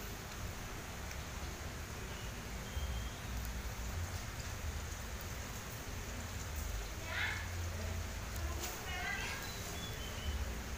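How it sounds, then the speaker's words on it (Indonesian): Rain falling outdoors, a steady soft hiss that continues throughout at low level, with a few faint bird calls and a person speaking over it. "Di luar lagi hujan."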